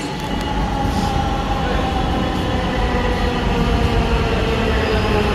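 A crowded metro train running with a loud, steady rumble and rolling clatter, a constant dense roar that holds without a break.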